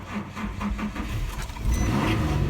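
A high-mileage 2008 Nissan Xterra, two-wheel drive with about 194,851 miles, cranks in rhythmic pulses during a cold start, then catches and settles into a louder steady idle, recorded close up.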